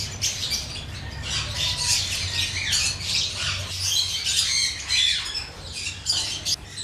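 A flock of opaline budgerigars chatters and squawks continuously at close range, shrill calls overlapping in a busy, restless chorus.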